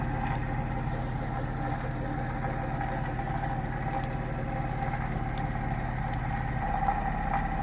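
A homemade magnetic switching motor runs at full power with a steady low hum and whirring drone, constant and even throughout without talk.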